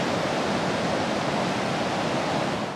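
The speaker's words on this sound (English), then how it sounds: "who doesn't enjoy walking the beach and listening to the waves crash?" Ocean waves on a San Diego beach wash in a steady, broad roar of surf with no breaks, moderately loud and close.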